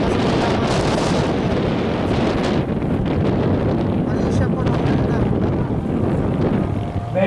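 Strong wind buffets the microphone during a Philippine bancarera sailboat race, roaring steadily and loudly throughout with low rumbling gusts.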